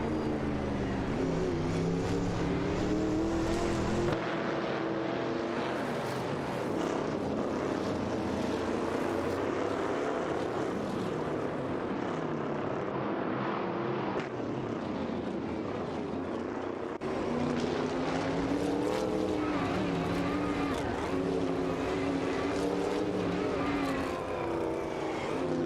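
A Ford Torino 71 and a Dodge Charger race in a video game, their engines roaring continuously and loudly with rising and falling revs as they battle for position, no talking heard.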